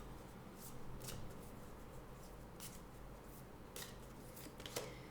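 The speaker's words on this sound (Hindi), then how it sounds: "और लैंग्वेज ऑफ कलर्स ऑरेकल से भी एक कार्ड ले लेते हैं" Oracle cards from a Language of Colours deck being shuffled, with soft riffling bursts and brisk papery flicks repeating through the clip over a steady low background hum, with no voices.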